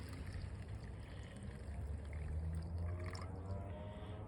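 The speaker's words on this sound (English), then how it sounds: "So for half a cup of rice, you need 8 ounces of water. Just put it right in." Eight ounces of water pours into a Japanese aluminium mess tin holding half a cup of rice, a steady close trickle and splash running continuously for a few seconds.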